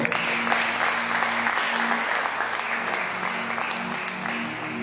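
A church congregation applauds and cheers for Jesus during a Sunday service, with a steady, dense wash of clapping holding for the whole stretch and a few voices mixed in.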